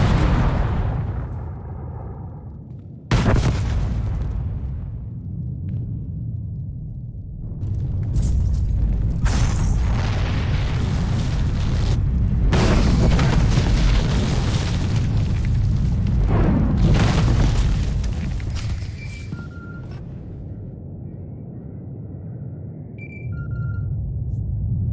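Explosions in the Star Wars: The Old Republic video game, a sudden loud boom that opens onto a long, rumbling stretch of blasts and crackling debris, with scattered bright electronic tones near the end.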